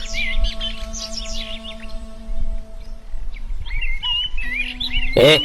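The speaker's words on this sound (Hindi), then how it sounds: "लेकिन कुछ समय बाद भी वह पक्षी आवाज करते रहते हैं।" Birds chirping and tweeting in bright bursts, with a steady low hum underneath and a sharp louder call near the end.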